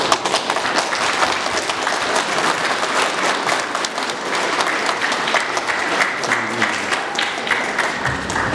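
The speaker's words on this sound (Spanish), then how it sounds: "Aplausos." Wedding guests at a church ceremony in Pallpata applaud the newly married couple with loud, continuous clapping that carries on steadily, with faint murmurs of the crowd underneath.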